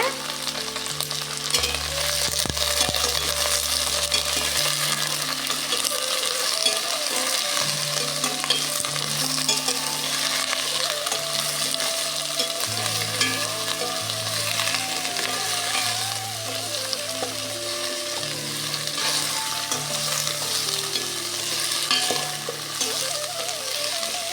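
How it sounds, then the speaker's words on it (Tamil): Garlic and mixed vegetables sauté for a village-style mixed vegetable paruppu sambar, a loud continuous sizzle and crackle throughout with occasional stirring, and a faint tonal hum running underneath. "அதுக்கப்புறம் பூண்டு ஆட் பண்ணிக்கோங்க வெஜிடபிள்ஸ்லாம் போட்டு நல்லா வணக்கிக்கோங்க"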